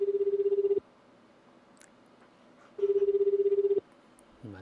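An outgoing telephone call to Shizuoka gives two evenly spaced ringback tones, each about a second long, clear and close in an otherwise quiet line.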